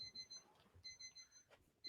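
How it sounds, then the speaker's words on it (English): A digital alarm clock beeps in repeated short bursts of high electronic tones, faint and at a distance, with soft background noise between the beeps. "do you hear that beeping?"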